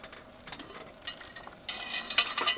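A pot of food simmering on a propane heater inside a tent in minus 15 Celsius cold, soft bubbling and faint stirring clinks, growing into a steadier close sizzle in the second half.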